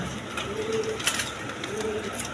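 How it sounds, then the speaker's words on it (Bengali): A pair of Garra pigeons coo near at hand, two drawn-out low calls spaced about a second apart over faint background noise. "এক পেয়ার গররা কবুতর আছে দেখেন কোয়ালিটি সম্পন্ন কবুতর"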